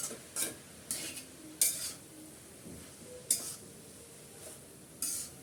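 A utensil stirs dheki fern greens in a pan, with a series of short scraping clatters spaced about a second apart over a low background sizzle, close and fairly quiet.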